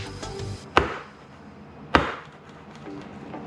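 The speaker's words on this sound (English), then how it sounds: "Drop them pans." Cake pans filled with batter dropped on a kitchen counter, two sharp loud knocks about a second apart, with faint background sound between them.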